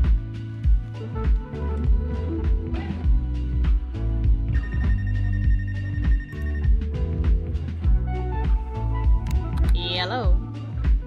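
Repeated telephone ring in the video game Life is Strange: True Colors, pulsing bursts continuing through the stretch while a person talks over it and other game sounds mix in.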